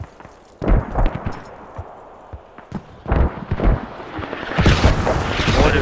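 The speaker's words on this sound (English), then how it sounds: "Mortars coming down on the US Hab now. Russian mortars are almost right on target." Russian mortar rounds land in Squad on the Chora map, striking near a US habitat: three heavy, booming impacts arrive a second or two apart, each a sharp blast that trails into rumbling debris, loud and close.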